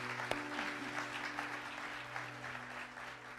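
A church congregation applauds a baptism, steady dense clapping from a crowd filling the room, sustained for the whole stretch with no speech over it.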